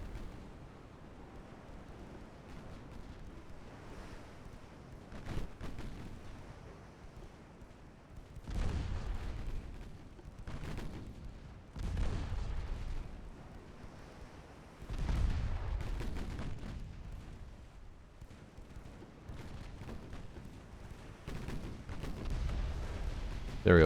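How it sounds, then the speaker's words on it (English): A torpedo detonation against an enemy destroyer in a 1947-era naval game, with several heavy, low booming blasts that swell and fade at intervals over a steady rumbling background, with no voices. "There we go, torpedo detonation"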